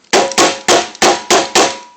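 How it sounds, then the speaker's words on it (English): A punch is struck with a hammer to drive a pin into a Kimber Custom II pistol's mainspring housing: six sharp, loud metallic taps land at a steady, evenly spaced rhythm, close by, with no talking. "I'll use my 5/16 drive or punch set and kind of hammer that thing in"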